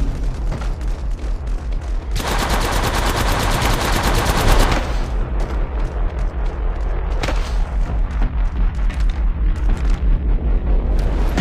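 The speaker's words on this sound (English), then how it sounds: "They spotted me. I'm taking shots." Rapid automatic gunfire in the shooter game Apex Legends Mobile: a dense sustained burst dominates the middle, then scattered shots and short volleys follow, loud and close.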